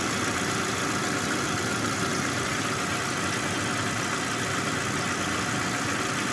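A freshly purchased Volkswagen Jetta idles after a brake repair, producing a continuous, even engine hum with no variation and no talking.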